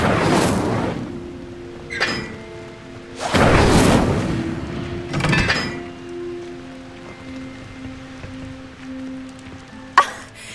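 A fire spell cast in Hogwarts Legacy, heard as a few bursts of whooshing flame and booming impacts, loud and near, spaced over several seconds and closing with a sharp crack.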